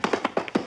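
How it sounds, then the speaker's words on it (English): Five quick, crisp knocks land on a door in an uneven rhythm, close and clear, lasting under a second. "Kate, you answer the door."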